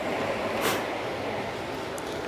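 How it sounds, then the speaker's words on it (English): A small train rolls past in the town of Alnwick with a steady, loud rumbling rush and a brief bright squeal, heard up close and without talking. "Little train that goes past."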